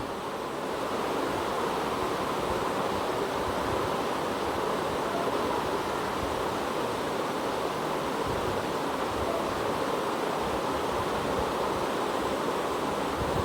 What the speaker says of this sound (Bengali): সবজিগুলোকে আবার একটু মিক্সড করে দিচ্ছি।